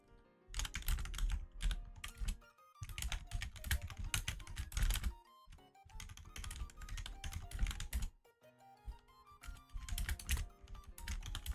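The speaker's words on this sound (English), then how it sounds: "sorry I'm typing" Steady, fast typing on a computer keyboard, close and fairly loud, with dense clusters of key clicks broken by short pauses.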